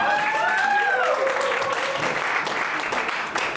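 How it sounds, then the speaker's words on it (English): A live audience at an interactive AI improv show applauds three improvisers coming up on stage: a dense, loud, sustained wash of clapping that holds steady throughout. "Give them a round of applause."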